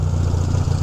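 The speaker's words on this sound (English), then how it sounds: "Engine runs beautifully." A 1967 Honda CA77 305 Dream motorcycle engine runs at a steady idle, close and fairly loud, with an even low throb and a light mechanical clatter on top. No one speaks.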